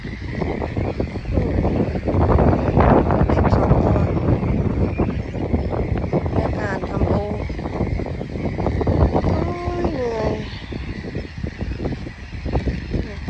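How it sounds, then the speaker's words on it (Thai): Strong wind buffets the microphone outdoors in a grassy field with geese and cygnets around, a loud continuous rumbling roar that surges and eases, with a voice speaking briefly over it. "ลมพัดลมแรงค่ะทุกคน"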